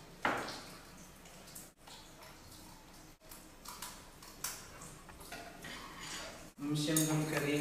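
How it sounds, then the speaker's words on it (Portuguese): A spoon clinks and scrapes against a container while stirring a solution of aluminium potassium sulfate dissolved in water, a series of close, sharp metallic taps and rattles recurring every second or so. "Mexemos um bocadinho a solução"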